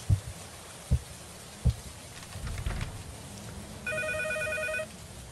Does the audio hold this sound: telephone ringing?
yes